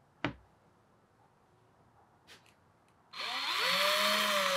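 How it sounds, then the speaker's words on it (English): A small power drill bores a hole in a porcelain Christmas ornament, starting after a sharp tap and light clicks, then whirring loudly and steadily nearby with a slightly shifting pitch. "we are going to drill the Christmas ornament hole"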